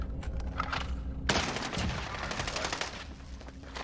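Rapid automatic gunfire in the video game Call of Duty Warzone, a dense loud burst of shots that swells sharply after a brief quieter opening and keeps rattling, with no talk over it.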